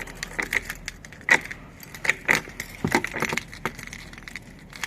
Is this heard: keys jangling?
yes